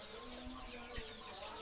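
Free-range desi chickens and roosters on a poultry farm give soft, distant clucks under a steady farmyard background, with faint voices nearby in a brief moment.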